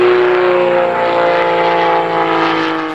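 A Giles 202 aerobatic propeller plane with a four-cylinder Lycoming IO-360 engine drones loudly and steadily close by, its strong harmonic buzz holding without a break.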